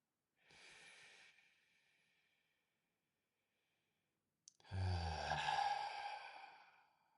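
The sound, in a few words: collective breath taken during guided meditation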